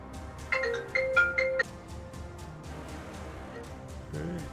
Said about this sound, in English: someone's calling Dwight